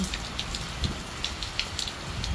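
Rain falls steadily in the United States, making a soft, even hiss with scattered nearby drips tapping on a surface. No voices are heard.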